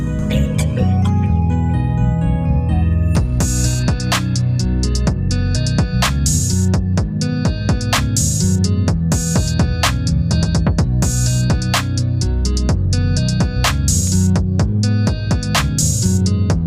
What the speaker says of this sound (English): my melodies sound like this one when I combine it together.